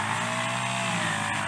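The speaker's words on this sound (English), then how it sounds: "wearing out that lawnmower, they call it. Weed eater, I call it." A weed eater trims grass on a farm in the Philippines, its small engine droning steadily and loudly up close with a buzzing whine that holds without a break.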